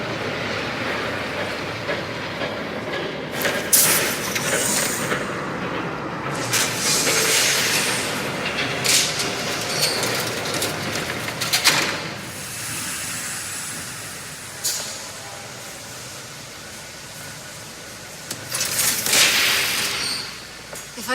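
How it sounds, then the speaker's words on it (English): A train rumbles past in the Batman: The Telltale Series video game, a broad hissing rush with clattering bursts swelling and fading over about twenty seconds, with no talk over it. "There's a train coming."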